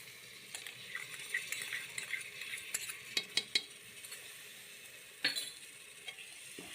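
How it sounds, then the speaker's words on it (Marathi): A spiced masala with yogurt is stirred in a pan for egg biryani, giving a faint, low sizzle. A utensil scrapes and clicks against the pan in a few sharp taps. "दही घातल्यानंतर मसाला चांगला परतून घ्यायचा"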